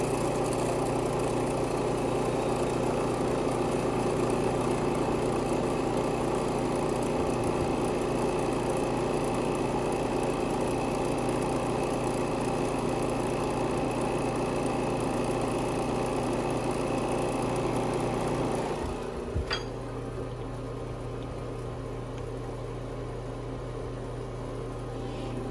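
Robinair RG3 refrigerant recovery machine running during R134a AC recovery, a steady loud motor hum and drone with a faint whine that holds for about twenty seconds, then a click and a quieter continued run.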